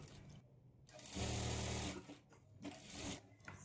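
A sewing machine stitches a blouse lining to the main fabric in short bursts, a fast steady mechanical whirr that starts and stops several times, close and fairly quiet.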